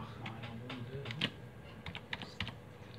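Computer keyboard keys tapped while entering a password for a Safire camera on a Hikvision NVR, a short run of quiet, uneven clicks with one sharper keystroke, close and alone.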